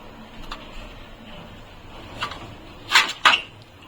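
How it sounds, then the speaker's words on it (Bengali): A metal plate is set down on top of a pan of water heating on the stove, giving two sharp clinks near the end after faint earlier knocks, close and otherwise quiet. "এখন আমি এর উপরে এই থালাটা দিয়ে দেবো।"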